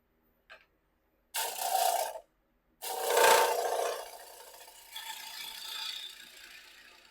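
A 1.5 inch Sorby round nose scraper cuts a wooden bowl on a lathe, giving three rasping scraping passes separated by short pauses, the last one long and trailing off into a softer whir.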